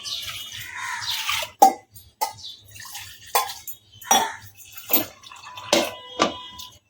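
Soaked chana dal tipped into a pressure cooker, a series of wet splashes and clattering drips of lentils and water landing in the metal pot, each burst separated by short pauses.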